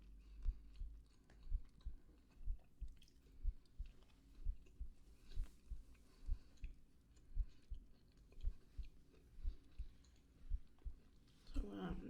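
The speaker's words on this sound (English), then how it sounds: "So you can just listen to me chew for a minute" Someone chews close to the microphone in a steady, regular rhythm of soft moist clicks and crunches, repeating about once a second throughout, with a brief louder rustle near the end.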